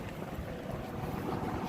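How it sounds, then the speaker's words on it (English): Blustery wind buffeting the microphone, a low rumbling roar that swells and gusts steadily with no voices. "It's windy today"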